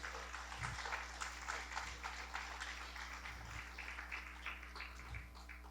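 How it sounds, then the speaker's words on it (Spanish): A church congregation claps for the glory of God during a Spanish-language service, a thin, fairly faint patter of hands that carries on steadily under a low background hum. "Puede darle un aplauso a la gloria de Dios."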